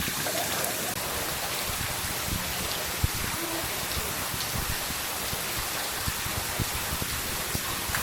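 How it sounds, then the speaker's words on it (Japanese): Heavy rain pours steadily onto an open-air hot spring bath at a Japanese onsen inn in Unzen, Nagasaki, a dense, continuous hiss with scattered drops and splashes close by. "いや、めっちゃ雨すごいな。"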